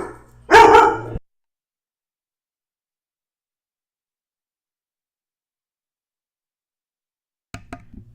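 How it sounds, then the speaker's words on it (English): A dog gives a single loud, excited bark near the mic, then a long silence, with a few faint clicks or knocks at the very end. "Sorry, don't mind my dog."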